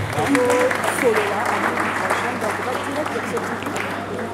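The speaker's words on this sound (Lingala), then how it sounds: "Est-ce qu'on peut encore une fois l'applaudir très fort?" An audience at an artists' and comedians' gathering applauds loudly, a dense sustained wash of clapping from many hands with voices mixed in, easing slightly toward the end.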